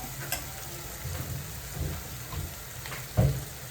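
Onion and tomato frying in hot oil in a Malvani-style kitchen, a soft steady sizzle with a few stirring clinks and one brief louder scrape near the end.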